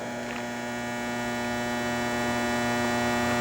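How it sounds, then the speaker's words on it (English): Steady electrical buzzing hum from loud overhead lights in a showroom beside a 2013 Infiniti G37xs AWD Sport coupe, a constant tonal drone that grows slightly louder, with no voices. "Those lights are so loud overhead."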